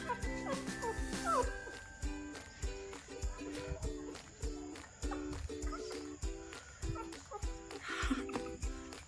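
Rottweiler puppies whimper and yip in high, thin cries over a steady rhythmic mechanical hum, close by and fairly faint.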